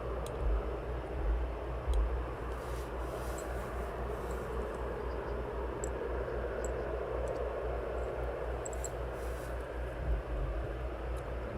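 A Ryanair airliner arrives at East Midlands Airport, heard as a steady, distant broadband jet roar with a low rumble that holds level throughout and has no voices over it.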